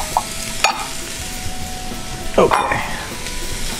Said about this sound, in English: Start to render that fat out, okay? Start to caramelize the onions and caramelize the bacon.